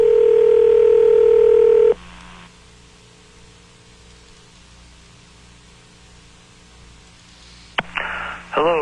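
A telephone call placed through a handset: a loud steady dial tone cuts off, followed by a quiet line hiss, then clicks and tones as the call connects through to voicemail.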